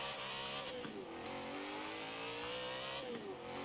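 BMW M3 GTR race car revving hard and accelerating in the Forza Horizon 4 racing game, a loud continuous engine roar that climbs through gear changes, with a brief tire squeal, close and alone.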